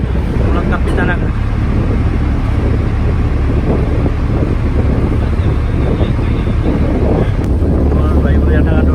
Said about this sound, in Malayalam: ഇതാണ് കേരള സർക്കാർ ബോട്ടാണ്.